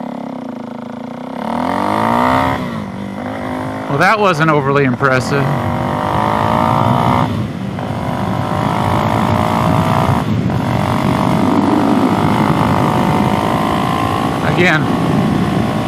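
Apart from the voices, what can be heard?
DRZ400SM motorcycle engine revving with knock-off FCR 39 carburetor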